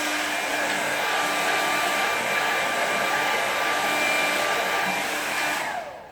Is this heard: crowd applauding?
no